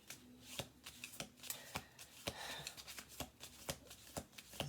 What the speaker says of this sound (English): This is the last shuffle